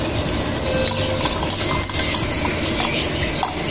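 A spoon stirs yogurt into tomato masala in a pot, scraping and clinking steadily against the metal over a soft background sizzle, close and continuous with no talk.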